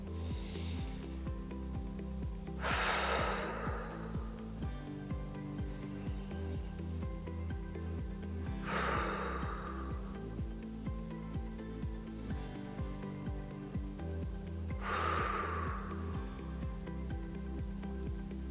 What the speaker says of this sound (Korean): 천천히 숨을 들이쉬고 내쉬고 3번만 해볼게요.